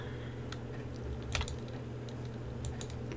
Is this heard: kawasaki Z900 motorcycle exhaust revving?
no